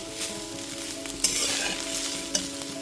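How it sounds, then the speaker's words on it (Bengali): Fried rice is stirred and tossed in a pan over a low gas flame, a continuous soft sizzle under scraping spatula strokes with a couple of sharper clinks, close and without voices. "গ্যাসের ফ্লেমটা লোতে রেখে খুব ভালো মতো সব কিছু মিশিয়ে নেব"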